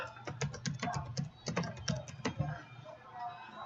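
Rapid, uneven keystrokes on a computer keyboard, close and clear, with quick clusters of clacks and brief pauses, no voice over them.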